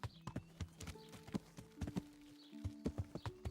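Hooves of a horse in Kingdom Come: Deliverance clip-clop in an irregular walking rhythm, close and fairly quiet, over a low tonal game music bed.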